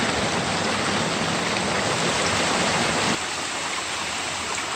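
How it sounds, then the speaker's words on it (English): A waterfall and rushing creek on the South Prong of Middle Creek in Pisgah National Forest roar as a loud, steady broadband wash of water with no pauses, close by and uninterrupted. "Looks like there's a waterfall up ahead."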